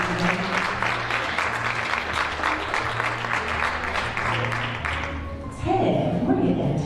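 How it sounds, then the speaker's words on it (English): A dense crowd gives sustained applause at a film screening. The clapping fills the first five seconds, then fades as a voice takes over. "give yourselves a round of applause"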